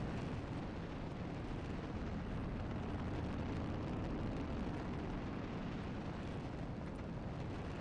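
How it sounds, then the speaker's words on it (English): Rocket engine in the video game Kerbal Space Program roars during launch: a steady, dense, loud broadband rumble that holds without a break for the whole stretch, with no talking over it. "The rocket is going strong."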